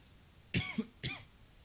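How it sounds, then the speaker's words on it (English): Two short, harsh coughs close by, the first a double burst, with quiet room tone around them. "Man, really coughing here."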